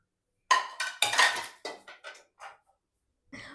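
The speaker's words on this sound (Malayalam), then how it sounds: "ഒരു ചട്ടി അടുപ്പത്തേക്ക് വെക്കുക" A cooking pan clanks and rattles against a metal stove in a quick cluster of knocks, followed by a pause and one last short clatter.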